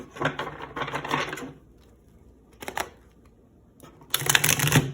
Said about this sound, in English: Let's get a couple more shuffles.